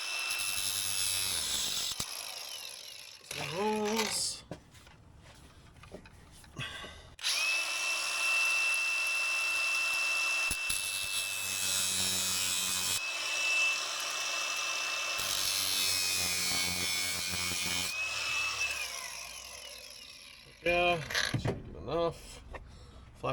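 An angle grinder cuts a slot into a stuck screw head, a loud steady high-pitched whine for several seconds between shorter bursts of grinding and handling noise.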